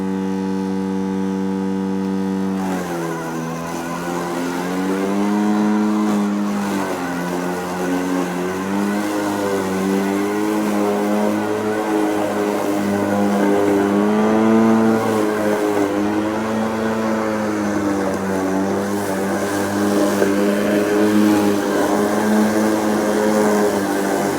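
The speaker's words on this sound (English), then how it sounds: "I'm gonna set the mower on the slowest speed that it will go." A Kobalt 40V self-propelled lawn mower, set to its slowest speed, cuts a path through grass. A steady tone gives way to a continuous electric motor hum whose pitch wavers as the load changes.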